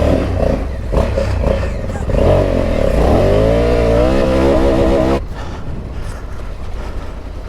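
A 2020 Honda Africa Twin motorcycle engine labours off-road through muddy ruts, revving up and down in loud, close sweeps before dropping back to a rougher, quieter idle.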